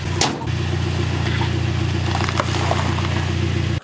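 A 1999 Toyota Tacoma pickup rolls forward off a ramp with its engine running, a steady mid-pitched hum that holds evenly throughout after a brief bump at the start.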